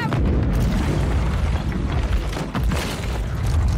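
Grenade explosion in a first-person shooter, heard as a loud, sustained booming rumble with dense low-end energy and a sharper burst near the end, continuous throughout.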